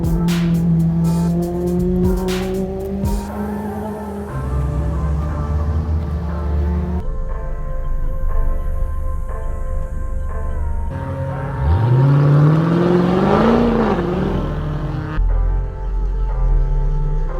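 A 350 HP Ford Focus RS on a test drive, the engine loud and near as it revs through gears, rising and falling with brief tire squeal, continuous throughout.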